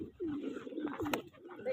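Soft, throaty pigeon coos repeat in a rolling rhythm, close by, with a faint voice murmuring underneath.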